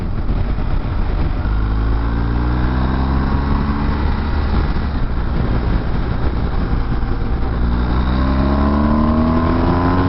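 A BMW R1250GS motorcycle accelerates hard at full throttle on a German autobahn, its engine note climbing steadily through rising pitch under heavy, constant wind roar, loud and close throughout with no talking.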